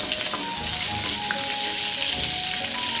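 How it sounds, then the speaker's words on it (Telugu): Chopped onion fries in hot oil with mustard seeds, cumin and green chilli, a loud, dense, continuous sizzle heard up close with no speech over it. "ఒక ఆనియన్, ఫ్రై కానిస్తాము"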